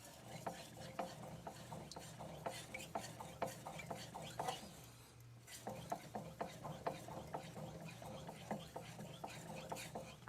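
A kitchen knife is stroked back and forth on a wet 5000 grit Altstone Fukami whetstone, giving a faint, rhythmic series of soft scraping passes with a short pause midway.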